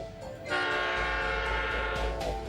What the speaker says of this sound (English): No wonder these trains are so long.